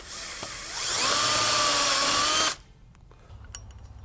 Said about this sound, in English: use a reamer to ream it out to the next largest size, or use a unibit and punch it out